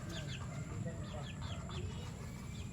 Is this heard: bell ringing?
no